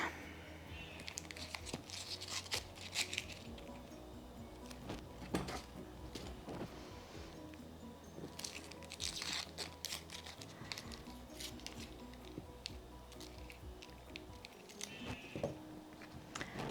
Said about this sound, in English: So we've got an onion, cutting off the ends that we don't want and the skin.